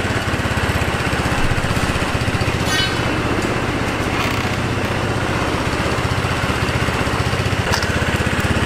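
An enduro scooter engine runs steadily after its first start, a close, loud, rapid puttering with even pulses throughout and no talk.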